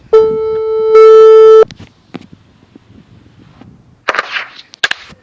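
A loud electronic ringtone sounds in two sustained bursts, followed by quiet handling noises and a few sharp clicks.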